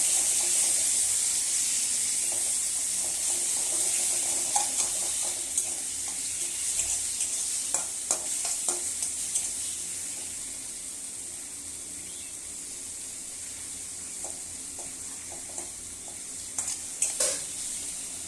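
Chopped tomatoes and green chillies frying in a pan, a steady close sizzle running throughout with occasional scraping and stirring knocks rising above it.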